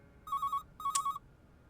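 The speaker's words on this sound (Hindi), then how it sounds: "इस घर के फोन ऐसे बजते हैं जैसे घर ना हो कोई दफ्तर हो। बजे जाएगा, बजे जाएगा" A household telephone rings in two short electronic bursts of warbling tones, close and clear over a faint room hush.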